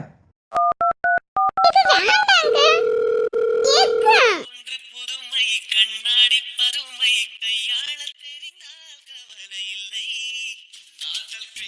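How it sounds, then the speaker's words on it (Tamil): A phone call begins with a burst of dialing tones and a steady dial tone, then a voice talks over the line in quick, chattering bursts. "அனு ஃபோன் பண்ணி பேசுறியா"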